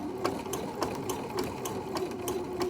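A sewing machine zigzag stitching elastic onto cycling bibs, running at a steady close-up hum with a rapid, regular clatter of needle strokes throughout.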